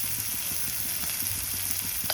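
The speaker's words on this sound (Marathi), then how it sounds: "आणि चांगला टमॅटो भाजून घ्यायचा आणि त्यामध्ये थोडीशी हळद" Tomato frying with turmeric in an oiled pan, a steady close sizzle with faint stirring scrapes and a small clink near the end, no voices.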